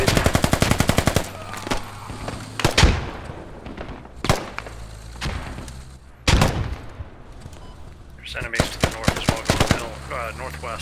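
Automatic rifle and machine-gun fire in the military shooter game Squad, with a rapid burst at the start followed by loud single shots and short bursts, near and sharp, and some voices and chatter toward the end.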